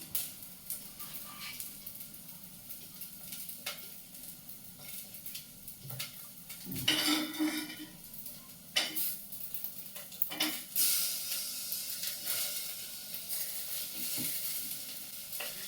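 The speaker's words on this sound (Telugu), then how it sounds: "ఒకసారి అలా ఆనియన్స్ వేసి ఇప్పుడు టమాటాను వేసేసుకుందాం" Tomatoes added to a pan with onions for vegetable sambar, frying with a soft, steady sizzle broken by scraping stirs and a louder hiss burst midway, fairly close and without talk.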